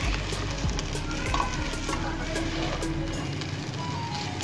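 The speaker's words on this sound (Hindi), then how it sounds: "इसको अच्छे से मिक्स करेंगे।" Chicken fried rice with chicken powder and black pepper being stirred in a hot pan, a steady close sizzle with soft scraping throughout, no talking.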